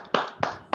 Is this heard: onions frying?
no